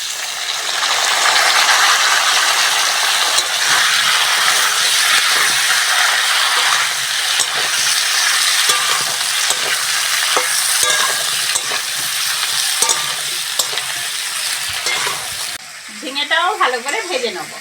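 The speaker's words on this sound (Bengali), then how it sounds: "ঝিঙেটাও ভালো করে ভেজে নেব।" Ridge gourd with potato fries in a pan with five-spice tempering, giving a loud, continuous sizzle and frequent sharp stirring scrapes before the sound thins out near the end.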